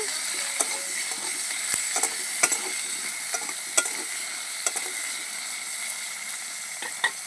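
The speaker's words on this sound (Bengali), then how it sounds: "আলুটা আমি এক মিনিটের মতন ভেজে নিয়েছি" Potatoes fry in hot oil with a little salt, a steady crackling sizzle broken by sharp clicks and scrapes of a spatula stirring the pan.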